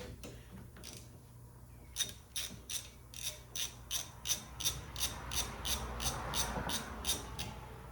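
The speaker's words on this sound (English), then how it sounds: "Let me get this nut off real quick." A ratchet wrench turns a nut off the strut assembly of a 2010 GMC Acadia. A few scattered clicks come first, then a quick, regular run of close, crisp ratcheting clicks, with no voices.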